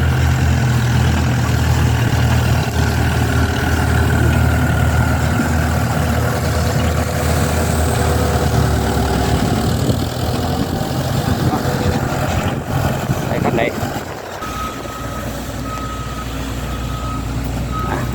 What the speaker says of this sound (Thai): สิบล้อนะครับใส่เทเลอพ่วงนะครับรถพ่วง